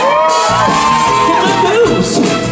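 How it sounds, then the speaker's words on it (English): Crowd at a Pride event in Truro, Cornwall, cheering, whooping and shouting loudly, a dense roar of voices with rising yells throughout. "Give yourselves a round of applause."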